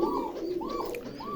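Indian Lotan pigeons from Benares coo in three rising-and-falling calls at an even pace, moderately close over a faint background hum.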